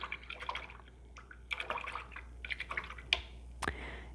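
A paintbrush is swished and rinsed in a water cup during an acrylic painting session, producing soft, close dripping and sloshing in short uneven bursts with quiet pauses, no talking.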